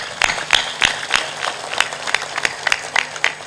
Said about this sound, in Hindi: तालियां जोर से बजाया करो।